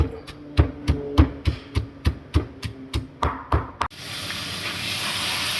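Curry paste and chili stir-fried in a little oil for a Thai vegetable curry with fish. About a dozen sharp, evenly spaced spatula knocks on the pan come first, then a steady loud sizzle takes over.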